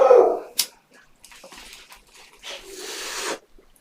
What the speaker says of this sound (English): Y'all can hear my dogs in the background.